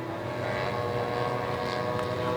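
Engine drone of a roughly 21-year-old fabric-covered RC model Waco YMF-5 biplane in flight, a constant buzzing propeller note that stays steady and fairly loud throughout with no talk.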